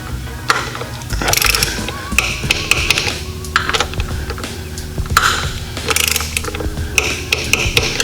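Ratchet wrench tightening bolts during a Magnuson TVS2650 supercharger install on a C7 Corvette, a steady run of close, busy metallic clicking and mechanical clatter with no talk.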